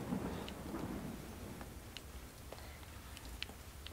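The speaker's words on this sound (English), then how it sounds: "The thunderstorm is moving away now." Thunderstorm in Resident Evil 4 plays as a faint low rumble of receding thunder under steady rain, with scattered light drips and ticks, no talk.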